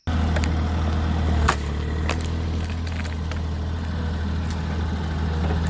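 Excavator engine running steadily nearby while scooping up an old picnic table in a yard, giving a constant low diesel drone, with a few clanks and knocks from the bucket work.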